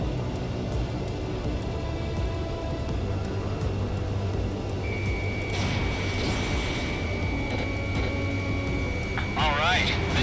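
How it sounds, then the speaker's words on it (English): Enemy transport aircraft taxiing on an airbase in a combat flight video game: a loud, steady engine drone runs throughout, overlaid with a voice speaking and a brief warbling electronic tone near the end. "Enemy transports are taxiing."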